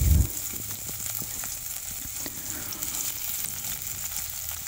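Chopped onion and cumin seeds frying in melted fat for a red lentil soup, a steady close sizzle after an initial thump, with faint crackles scattered through.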